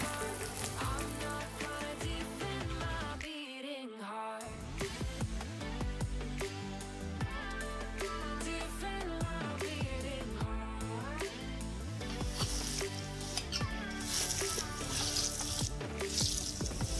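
Onion frying in hot oil in a 22-litre kazan over an open fire, a continuous crackling sizzle with popping bursts, close and steady, overlaid with pitched tonal sounds.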